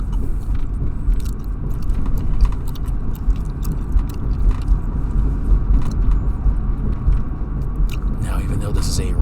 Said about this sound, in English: even though this is a rustic vehicle, you might still find some sensations of me driving here